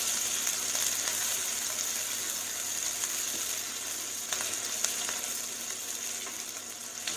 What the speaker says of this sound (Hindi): अब हम इसमें डाल देंगे ये अदरक और हम इसको थोड़ा सा इसको सेंक लेंगे।